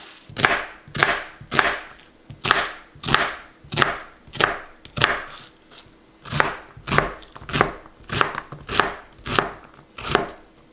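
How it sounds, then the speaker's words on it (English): An onion is chopped on a board with a knife in a steady series of about twenty crisp, close strokes at an even rhythm, alone without talk. "I'm gonna chop up an onion"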